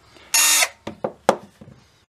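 A power drill with a small bit bores a pilot hole into bare ground-down metal: a short, loud whirring burst, then a few sharp clicks and knocks nearby.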